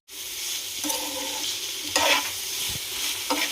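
Chicken pizza topping with chili powder, spices and corn stirred in a frying pan, a close steady sizzle with scraping spoon strokes and a few louder clanks against the pan, no voices.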